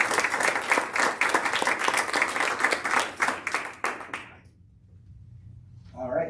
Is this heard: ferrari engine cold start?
no